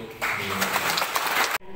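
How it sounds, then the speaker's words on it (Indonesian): Audience clapping at a parish family retreat for married couples in Kotagajah, a busy burst of hands lasting over a second before cutting off abruptly, with some voices underneath. "Tepuk tangan untuk"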